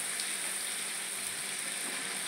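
Garlic frying with onion paste in hot oil gives a steady, even sizzle that stays at a moderate level throughout, with no talking.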